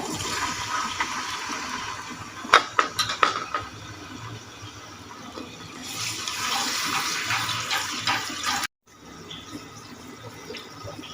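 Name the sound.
water being poured into a pan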